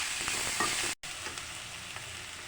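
Sliced tomato frying in a pan, a steady soft sizzle and crackle with a brief break partway through.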